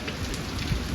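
Rain pours onto an open farm field during a windy monsoon storm, a brief, dense, steady patter with a faint low rumble beneath and no voices.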